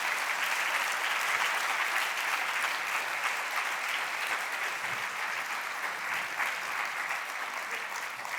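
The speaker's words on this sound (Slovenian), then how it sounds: "prosim, pomagajte mi še z enim aplavzom" Dense, steady applause from an audience at a closing awards ceremony, a continuous wash of many hands clapping at even loudness throughout with no pauses.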